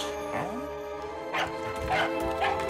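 A few short barks from a dog, spaced apart, with a faint yelp at the start over a steady background hum.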